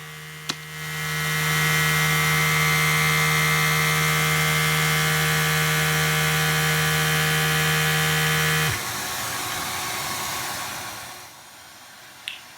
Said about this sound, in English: Now I add about 2 drops of oil and run the machine for a few seconds as the instructions suggest